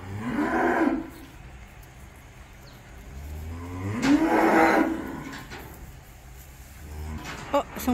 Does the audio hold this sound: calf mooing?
yes